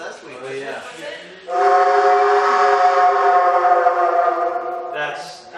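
Train sound effects from a student-made video game: a loud, sustained whistle or horn over rumbling rail noise, starting after a short lead-in and ending with a brief higher tone.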